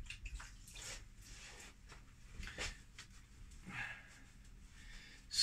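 Hands are washed under running water at a kitchen sink during baking, with soft splashing and intermittent trickles in a quiet room, no talk.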